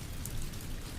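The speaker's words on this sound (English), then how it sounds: "listening to the rain hit the waves, the sound rolling gentle and steady" Rain falling onto sea waves makes a steady, dense patter and hiss, soft and continuous with no voices.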